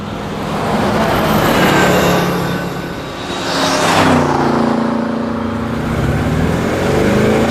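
A car passes in a recorded library effect, its engine and tire roar swelling loud, dipping, then surging past close by before holding a steady drone.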